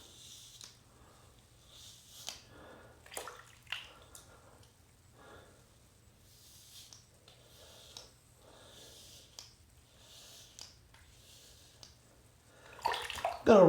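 Gillette Skinguard razor blades rinsed in running water during a shave, bursts of splashing and swishing repeating every second or two, fairly quiet and close, with a louder splash at the end.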